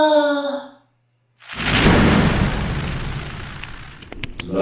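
A burst of fire igniting in a cartoon-style scene, heard as a sudden loud whooshing roar that follows a short voiced sigh and a moment of silence, then holds steady with a few crackling pops near the end.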